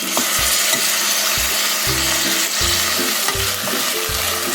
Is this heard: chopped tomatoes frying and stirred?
yes